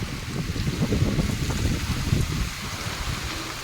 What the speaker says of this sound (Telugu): వర్షం ఎలా పడుతుందో గాలి వాన వచ్చేస్తుంది అన్నమాట